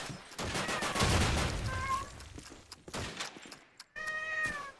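A pet cat meows a couple of times, close and distinct, over dense bursts of gunfire from a Call of Duty 2 match playing in the room.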